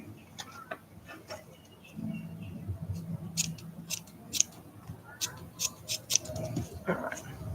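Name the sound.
scissors cutting fabric for an art doll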